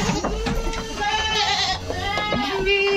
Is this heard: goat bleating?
yes